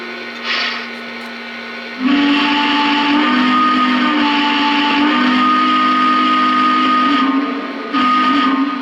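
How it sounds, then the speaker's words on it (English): One of the five steam whistles on the Greenbrier Chessie train blows loud and sustained for several seconds, with a shorter blast before and another starting at the end, over a hissing background. "Now this one does have 5 different whistles on it, so let's check them out here."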